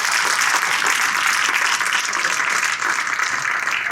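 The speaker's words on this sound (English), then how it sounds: "You can give them a round of applause if you'd like." Audience at an HR conference presentation applauding, a dense, continuous wash of many hands clapping at an even level from start to finish.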